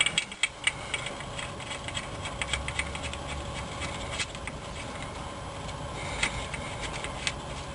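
A ratchet wrench tightening the transmission drain plug on a 2000 Honda Odyssey, giving a quiet, steady run of rapid small clicks over several seconds, heard close with no talking.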